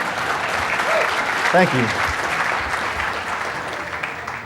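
An audience applauds with steady, dense clapping at a talk, while someone speaks briefly over it and the clapping fades slowly toward the end.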